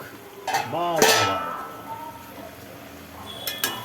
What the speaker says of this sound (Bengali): দিয়ে এবার ঢাকনাটা খুলে দেখা হোক